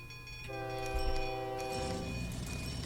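A train in the video game OpenTTD sounding a sustained multi-tone horn, fairly faint, held for over a second before giving way to rumbling rail noise.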